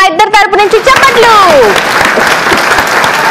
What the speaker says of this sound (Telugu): మా ఇద్దరు తరపు నుంచి చప్పట్లు